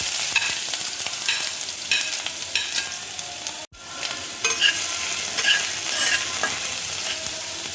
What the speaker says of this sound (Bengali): কড়াইয়ে দেখো তেল দিয়েছি, এবার দেখো পেঁয়াজ কুচি আমি দিয়ে দিচ্ছি।